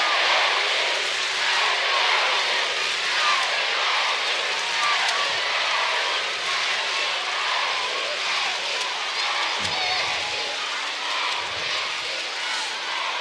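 Judo arena crowd at the Paris Grand Slam chanting for Teddy Riner, a broad steady roar of massed voices filling the hall, with a commentator talking over it.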